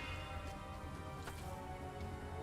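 A Soothing Rain spell in the card game Arcanium: Rise of Akhan casts a soft, steady hiss of falling rain with faint scattered droplet ticks, a continuous quiet wash lasting a few seconds.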